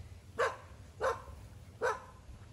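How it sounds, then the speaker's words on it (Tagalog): A dog barks three times at a steady pace, each sharp bark fairly distinct against a quiet outdoor background with light low rumble and no speech. "May aso. Sasalubungan tayo ng aso guys."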